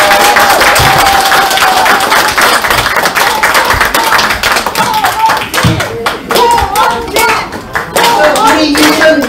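A crowd at a presidential election campaign launch event in Incheon gives loud, sustained applause to welcome the candidate's speech, with dense clapping, some scattered voices and shouts mixed in, and a brief dip before the clapping swells again.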